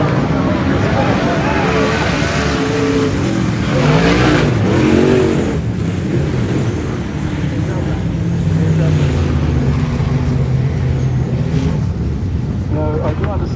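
Super sedan race cars at Albany Speedway, Attwell Park, roar off at the start of a heat, engines revving hard and rising in pitch under wind buffeting, while a commentator talks over the loud, continuous engine noise.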